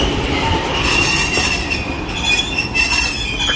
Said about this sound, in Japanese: このブレーキの音もね、なかなか昔ながらですよね。